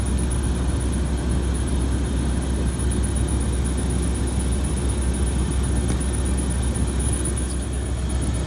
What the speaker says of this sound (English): so my indoor blower's going